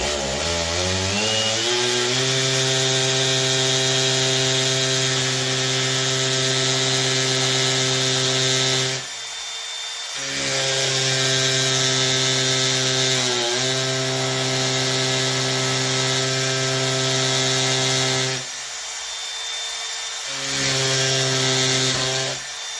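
A power drill bores holes into a wall for mounting an electrical box, a steady loud motor whine held for several seconds at a time with two brief pauses between bursts.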